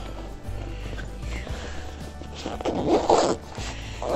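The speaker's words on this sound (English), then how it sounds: "you zip it" A zipper being pulled shut on the carry bag of a folding camping chair, a short rasping run that swells near the end, close and fairly loud with light handling rustle.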